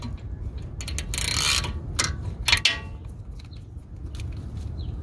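A torque wrench ratchets while a brake bolt is tightened on a Mercedes-Benz S-Class during a front brake pad change, giving a few bursts of sharp metallic clicks with a louder click cluster near the middle, close to the listener.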